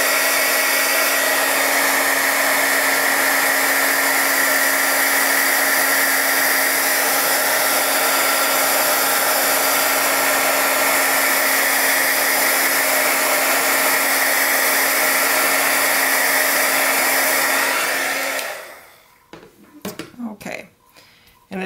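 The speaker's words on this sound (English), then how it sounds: "What this is a heat gun, but a hairdryer works great." A heat gun blowing steadily to dry watercolor paint on a landscape painting, a loud continuous whooshing drone that cuts off near the end, followed by a few faint clicks and a brief voice.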